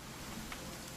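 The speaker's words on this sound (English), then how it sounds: "It's gonna rain the whole weekend, isn't it?" Rain falling in the video game What Remains of Edith Finch, a soft, even wash of steady patter, faint and continuous with no voices.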